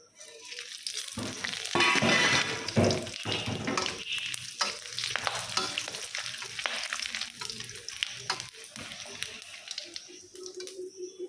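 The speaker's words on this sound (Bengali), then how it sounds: "তেলের মধ্যেই মাছটা দিয়ে দেবো, এই যে ফোড়নটা সব দিয়ে দিচ্ছি।" Fish fries in hot oil with tempering spices, giving a loud, bright sizzle that flares early and then settles into a constant crackling spatter, with occasional utensil stirs.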